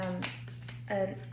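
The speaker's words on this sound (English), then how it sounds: "I'm going to shuffle it one more time" Quick riffling and tapping of a Sufi Wisdom oracle card deck being shuffled by hand, a few brief soft bursts over a low steady hum, with a faint voice in the background.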